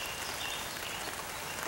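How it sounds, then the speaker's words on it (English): Rain falls outdoors as a steady, soft hiss of drops pattering on surfaces, even and unbroken, with no voices over it. "Raining out."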